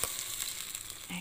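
Buttermilk hits a hot pan for majjiga rasam with a steady, hissing sizzle, close and moderately loud, lasting about a second with no voice.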